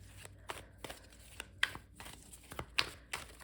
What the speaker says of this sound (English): the first, second that I was shuffling the card